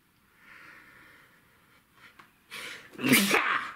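One sharp, explosive sneeze close by during a nasal swab for a COVID-19 antigen self test, preceded by a soft sniffly inhale and quiet breathing.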